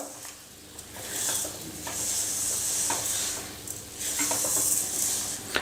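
Sweet sheera is stirred in a pan after cardamom powder goes in, giving repeated scraping strokes and a soft sizzle that rise and fall in waves, fairly close, with no talking.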